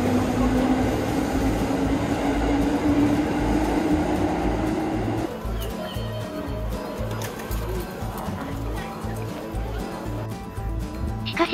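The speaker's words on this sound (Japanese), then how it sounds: "列車はお隣の青葉通り駅まで行くぜ。" A Senseki Line commuter train rumbles and clatters past at close range, departing Sendai Station, its steady roar fading into lighter rattling and station ambience, with no talking.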